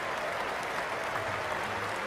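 A cricket crowd at an England v Australia T20 international applauds a batsman, steady dense clapping from a large stadium audience throughout.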